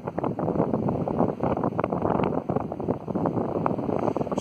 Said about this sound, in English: Hopefully you can handle the wind. It's a little bit of wind coming